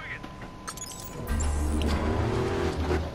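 A car in the Battlefield Hardline shooter game, its engine starting up and revving into a steady low drone after a second of quieter ambient clicks and game noise.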